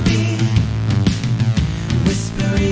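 A short excerpt of a song plays loud and close: a full band mix with a bass-heavy groove and sustained melodic parts, lasting under three seconds.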